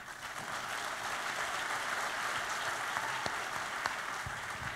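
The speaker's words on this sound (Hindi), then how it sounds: "ताली बजाने में कंजूसी क्यों?" Sustained audience applause fills a university auditorium in Bhopal during a screenplay writing masterclass, a steady even wash of many hands clapping throughout with no speech.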